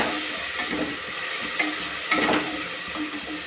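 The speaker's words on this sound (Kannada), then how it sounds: "ಈರುಳ್ಳಿ ಜೊತೆಗೆ 1 ನಿಮಿಷ ಫ್ರೈ ಮಾಡಿಕೊಂಡ್ರೆ ಸಾಕಾಗುತ್ತೆ" Onions frying in hot oil in a pan for mint pulao, a steady close sizzle and hiss with a few soft stirring scrapes.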